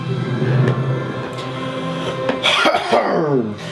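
A couple of rough throat-clearing coughs break out close up, with a low engine hum in the background.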